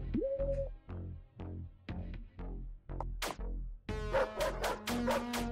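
Dog barking and yelping in the video game Paradox Soul, a rapid series of close, punchy barks with a few higher yips and whimpers, loud and alone without talk.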